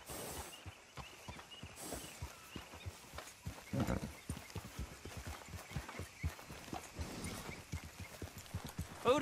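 Horse hooves clip-clop steadily while riding in Red Dead Redemption 2, a quick regular rhythm of close, distinct hoof strikes continuing throughout with no talk.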